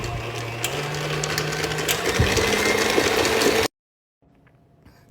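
A kitchen mixer blends in one last loud, steady whirring burst of motor hum with a slight pitch shift, then cuts off abruptly into near silence and a faint clatter.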